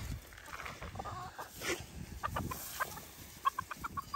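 Chickens cluck and chatter close by in short, repeated bursts, with scratching and rustling noises around them and no talking.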